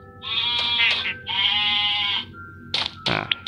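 Goat bleating in the video game Mini World: Block Art, two drawn-out wavering bleats close by, followed by a few short clicks and thumps.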